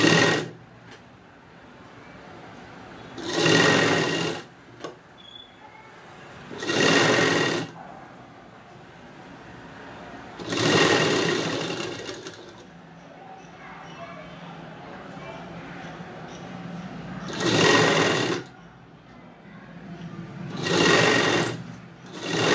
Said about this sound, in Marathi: इथे बघा अशा प्रकारे आपल्याला शिलाई मारून घ्यायची आहे